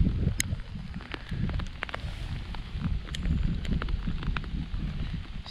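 Hailstones fall outdoors in heavy wet weather, a dense continuous patter of small sharp hits with gusty wind noise on the microphone throughout.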